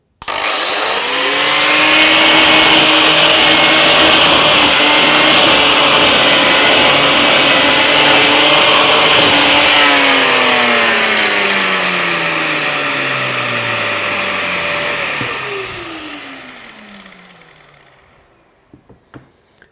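A Metabo LF 724 S paint-removal planer strips varnish and stain from a pine board, with a loud high-pitched whine as the motor spins up, holds under load, then winds down to silence.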